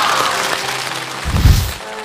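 A theater audience at a Yue opera Dream of the Red Chamber program breaks into sustained applause, dense and steady, with a brief low thump partway through.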